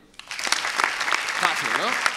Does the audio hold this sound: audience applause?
yes